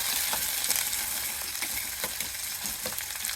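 Onion, green chilli and curry leaves fry in a hot tempering for chicken buttermilk curry, a bright continuous sizzle with faint crackles and soft stirring, close up and without speech.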